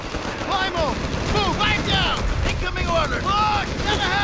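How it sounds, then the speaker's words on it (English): Gunfire and battle noise in the World War II strategy game Company of Heroes 3, during the Salerno landing, with dense, continuous shooting and whistling shells under shouted orders from soldiers throughout. "Concentrate fire on that target!"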